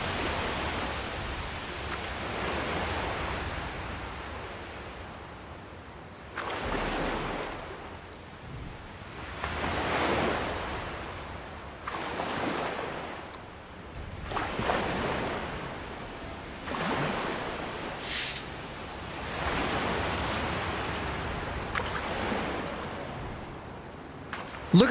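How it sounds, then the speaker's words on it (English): Ocean waves surging and breaking at sea in the naval battle game Mount & Blade II: War Sails, a steady broad wash with swells rising and falling every few seconds, loud and close, with no voices over it. "Look at the waves out here."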